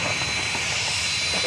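A Southwest Boeing 737-700 jet, about twenty years old, rumbling steadily on the runway at Dallas Love Field in the evening, a continuous broadband engine roar with no pauses.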